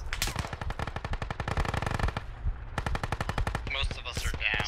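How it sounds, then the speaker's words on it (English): Rapid automatic gunfire in the Squad V11 military shooter on the Al Basrah map, dense bursts of close, loud shots with brief pauses, then further crackling fire and faint background voices. "I'm taking marksman fire from the east."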